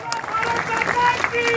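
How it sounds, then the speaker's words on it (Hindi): Audience applause breaks out at a speech by a cleric in Bidar, a dense steady patter of clapping mixed with crowd noise that holds at an even level throughout. "जोर से तालियों के साथ"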